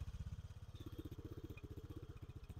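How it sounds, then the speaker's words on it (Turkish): A small scooter engine running close by with a rapid, even putter, the chugging pulses speeding up slightly as it revs. "Yani normal böyle scooter'ın nasıl çalışıyorsa tok bir sesi var."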